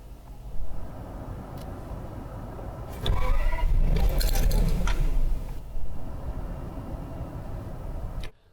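A Toyota Century V12 engine cranks and starts, heard from inside the cabin: a short whirring burst that settles into a muted, steady idle, with a few clicks before and after.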